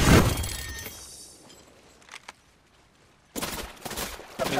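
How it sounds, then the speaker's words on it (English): Gunfire in Apex Legends, with a loud burst of shots at the start, a few scattered reports in the middle, and another rapid volley near the end. "Being shot at from my left."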